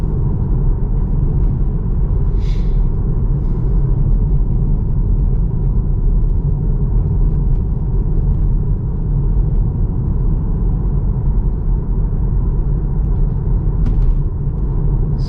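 An electric car rolls downhill on a cold day with limited regenerative braking, giving a loud, steady low rumble of road and cabin noise with a faint whir and a few light clicks, no talking.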